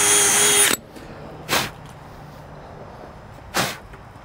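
A power drill removing screws during a gate lift installation, with a short whirring burst at the start followed by two quick separate whirs and quiet gaps between them.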